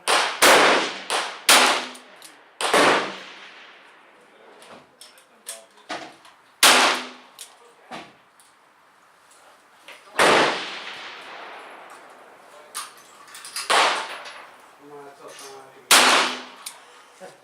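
Pistol shots firing wadcutter loads with Bullseye powder: about ten sharp, loud reports spaced irregularly a second or two apart, each ringing and decaying outdoors, with faint talk between some shots.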